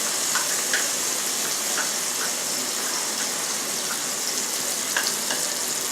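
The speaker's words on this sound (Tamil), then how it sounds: "இப்போ பாருங்கள், நம்ம அரைச்சி வச்ச மசாலா இதோட சேர்த்துக்கலாம்." Ground masala frying in a pan while coconut chicken is cooked, giving a steady loud sizzle with occasional crackles and pops, with no speech over it.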